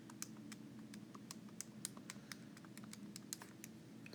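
Rapid, light taps on calculator keys click away in an uneven rhythm as numbers are entered, close and quiet, with no voices.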